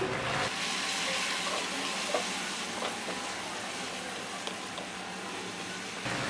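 Ginger garlic paste and chili paste being stirred into hot oil in a pan, a continuous hissing sizzle that stays level throughout, close up and without speech, with faint scrapes of the spoon now and then.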